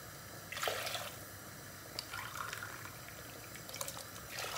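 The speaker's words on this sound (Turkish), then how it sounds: "Hemen içine 2 su bardağı bir soğuk su boşaltıyoruz" Two glasses of cold water pour into a pot for Turkish yayla soup, arriving in a few short splashing bursts with quiet gaps between, near and fairly soft, no voices.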